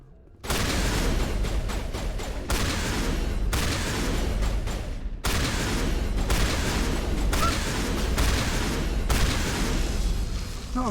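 Shotgun blasts in Mass Effect, loud repeated shots in a dense, sustained barrage with brief pauses between volleys, nearly continuous throughout.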